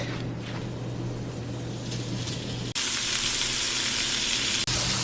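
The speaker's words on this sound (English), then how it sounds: "We have the onion frying." Onions sizzle steadily in a hot pan, a dense hiss that jumps louder partway through as the frying intensifies, with no voices.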